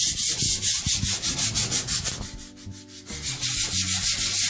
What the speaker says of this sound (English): you can sand it pretty aggressively and get a nice smooth finish out of it.